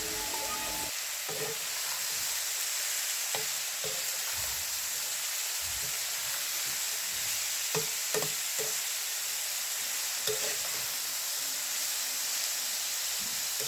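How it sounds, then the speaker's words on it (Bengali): Potatoes sizzle and hiss as they fry in spiced oil in a pan, with scattered scraping knocks from a spatula stirring them. The frying is loud and continuous and close by, with no talking. "আলুগুলোকে দিয়েই আবার খুন্তি দিয়ে নাড়িয়ে দিব যাতে সবগুলো মশলা একসাথে মিক্স হয়ে যায়"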